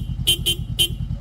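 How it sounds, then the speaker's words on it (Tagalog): A Denso compact horn fitted to a Honda CB500F motorcycle sounds three short, loud, close toots in quick succession over a low idling engine rumble. "yan po yung Denso compact horn"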